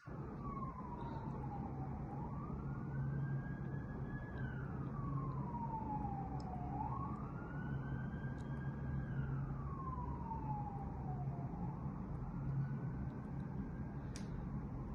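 An electric motor driven by a frequency inverter, ramping toward 50 Hz, produces a whining electronic tone that repeatedly sweeps up and down over a steady low hum, moderately loud and with no voices.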